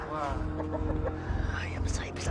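Chickens cluck in short, repeated bursts ahead of a cockfight, close by, with human voices talking over and between the calls.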